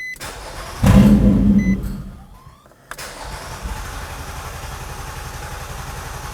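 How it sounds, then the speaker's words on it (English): A Nissan Maxima's 3.5L V6 fires up with a loud burst, then its idle fades and dies away as it stalls. A few electronic chime beeps sound, and a low steady hum continues afterward. "Now start the vehicle and run the engine until it stalls out."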